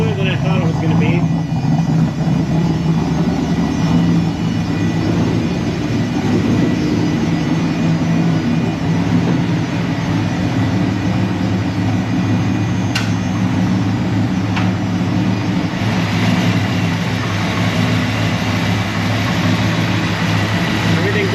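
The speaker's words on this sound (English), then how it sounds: "Honestly, fairly smooth idle, a little smoother than I thought it was going to be." A Ford F-150 pickup fitted with a new turbocharged engine idles smoothly, a steady low rumbling hum held at even level throughout, with someone talking over it.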